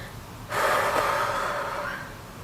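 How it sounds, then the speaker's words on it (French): A woman is out of breath: after a quiet moment, one loud, drawn-out gasping breath swells and slowly fades, close to the microphone. "Je suis essoufflée."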